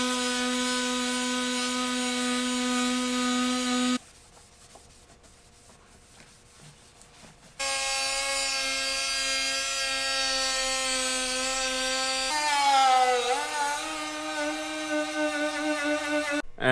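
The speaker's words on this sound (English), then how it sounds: "let's grind it away, and then we can prep it and paint it" A cordless grinder with an abrasive disc strips paint from a Jeep TJ fender, loud and steady with a high whine, cutting out for a few seconds and then resuming, its pitch dipping briefly under load near the end.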